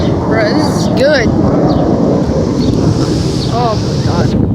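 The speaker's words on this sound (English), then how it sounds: "It's such a windy day" Strong wind buffets the microphone on a blustery day at a Blue Angels air show, a loud continuous roar with faint voices and distant whistling tones beneath it.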